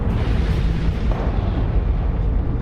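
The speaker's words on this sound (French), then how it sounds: "ces déchaînements d'explosions solaires ont des causes magnétiques" A deep, continuous rumbling roar like a massive eruption or explosion, used as a solar explosion sound effect, loud and steady without pauses, with no talking.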